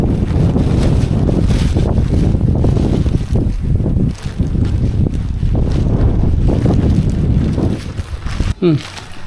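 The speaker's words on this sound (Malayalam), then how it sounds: "കാണാൻ പറ്റുന്നില്ല നല്ല കാറ്റും" Strong wind buffets loudly and continuously with deep rumbling gusts at Illikkal Kallu hilltop, drowning out most other sound.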